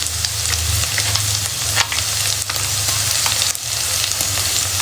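Chillies sizzle and fry in a hot oiled pan for egg chilli, a dense, steady crackle with scraping stir strokes recurring every second or so, close and loud.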